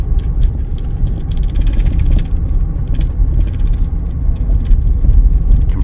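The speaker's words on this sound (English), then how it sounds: "You can probably hear stuff rattling in this truck." A Ford F-250 heavy-duty pickup on Falken Wildpeak A/T4W tires rolls down a gravel road, a steady low cabin rumble with loose items rattling and clicking inside the truck, recorded from within the cab.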